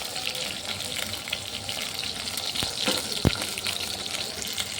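Eggplant, potato and cauliflower cook in hot oil with a constant broad sizzling hiss, close and even, broken by a few sharp clinks of a utensil near the end.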